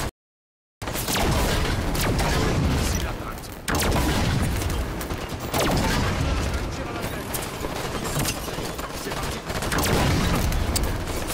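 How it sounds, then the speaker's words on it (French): A Halo 5 Guardians match with constant loud gunfire and blasts around a thrown grenade forms a dense, continuous barrage after a brief silence, with a short dip in the middle and booms throughout. "Je lance une grenade."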